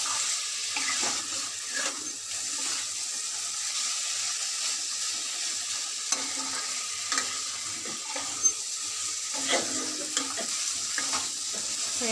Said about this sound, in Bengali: তো আমি এবারে আলুটা দিয়ে দেবো। আলুটা দিয়ে একটু নাড়াচাড়া করবো।